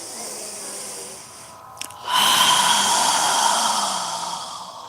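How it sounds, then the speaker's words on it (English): A strong yoga exhale pushed from the back of the throat, a loud breathy hiss that rises sharply after a quieter opening breath and then slowly tapers off, close and alone. "kind of a strong exhale as the air moves out from the back of our throat"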